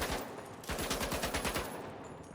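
A machine gun sprays continuously in the video game The Finals, a rapid, loud rattle of evenly spaced shots lasting about two seconds before trailing off.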